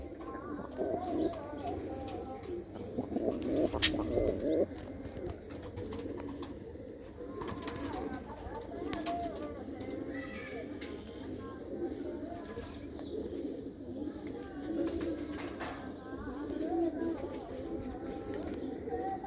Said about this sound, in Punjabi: ਇਹ ਲਾਲ ਰੱਤਾ ਕਬੂਤਰ ਆ ਤੇ ਲਾਲ ਬੰਦ ਕਬੂਤਰੀ ਆ